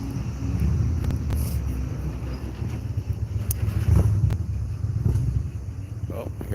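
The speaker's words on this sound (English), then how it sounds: "Oh, I hear a motorcycle." A motorcycle passes on a busy downtown street, a low, steady engine rumble with traffic noise and wind buffeting the microphone.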